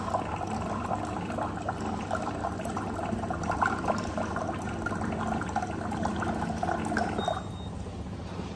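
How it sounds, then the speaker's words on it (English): Water filling a glass, a steady close hiss and splash of running liquid that carries on evenly for several seconds, with no talking. "Okay, so it's filling up the glass."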